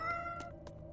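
In Tales of Berseria, a game cat meows three short times in quick succession, quiet and close over a soft background tone.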